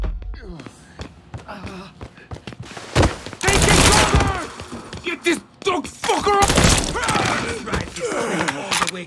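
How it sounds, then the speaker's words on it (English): Gunfire in the video game Mafia 3: loud bursts of rapid shots and impacts in two main volleys, mixed with game dialogue and music-like tones throughout. "Paez, you let us handle the shooting from here on out."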